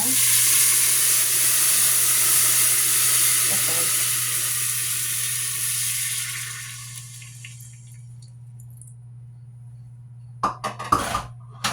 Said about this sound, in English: now what I'm going to do is add 1 cup of beef broth to my pan.